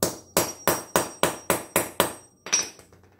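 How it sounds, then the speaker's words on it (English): Hammer tapping copper pipe during a plumbing job: eight sharp, evenly spaced metallic knocks close up, with a brief pause before the last one and no talking. "Give that a couple taps."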